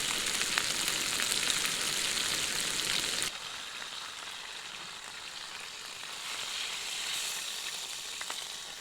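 Food, broccoli and a lamb chop, crackles and sizzles on a Jetboil single burner stove at a wet lakeside campsite. A dense, even hiss turns noticeably quieter partway through, then carries on steadily, with no voices.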